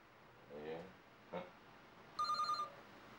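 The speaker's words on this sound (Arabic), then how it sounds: "عن إذنك يا حبيبتي لأرد على الهاتف" In an Arabic drama series, an indoor telephone rings with a short, sharp burst of rapid bell pulses near the end, after a few soft voiced sounds, fairly quiet overall.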